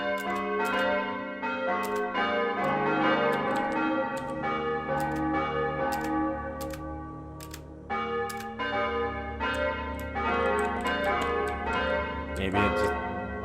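Church bells ringing in the Might and Magic 9 video game, a dense layered peal of bell tones with repeated strikes sounding steadily and loudly throughout, faint voices occasionally beneath.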